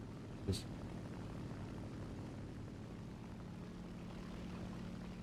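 Aircraft engines in War Thunder air-to-air combat form a faint, steady propeller drone that runs throughout, broken only by a brief thump near the start.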